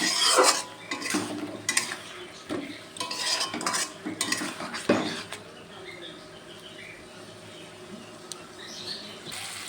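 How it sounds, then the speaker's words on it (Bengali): Turmeric spice paste fries in a pan while a metal spoon scrapes and clinks against it in irregular bursts, with a soft sizzle underneath that quiets toward the end. "ভালো করে মশলাটা কষিয়ে নাও।"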